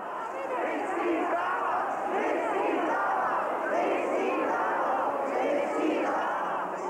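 A large crowd of students protesting in the streets of Prague, a dense continuous roar of many voices shouting and chanting together, loud and steady throughout with no single voice standing out.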